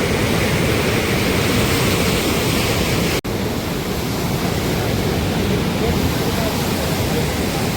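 High floodwater pours through the open gates of the Kosi barrage in Bihar, a steady, dense roaring rush that stays loud and unbroken throughout, with no voices over it.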